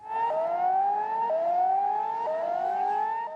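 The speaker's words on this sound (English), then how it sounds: "Warning sirens on Chile's northern coast, and the quake sends thousands into the streets." Warning sirens wail along Chile's northern coast after an earthquake, a loud, steady tone that climbs slowly in repeated rising sweeps, with no voices over it.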